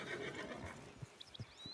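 A horse whinnies in Red Dead Redemption, a short faint neigh with a few soft hoof clops beneath it.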